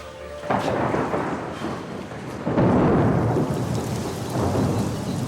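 A thunderstorm with steady heavy rain and low rolling thunder rumbling in long swells, loud and enveloping, with no voices.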